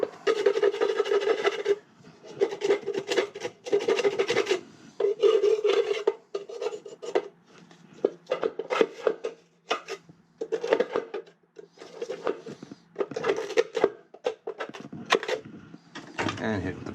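A plastic ice scraper rasps and scrubs crud off the parts of a German Buderus boiler in repeated bursts of close, gritty scraping, broken by short pauses.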